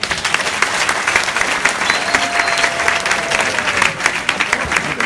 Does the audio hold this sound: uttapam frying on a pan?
no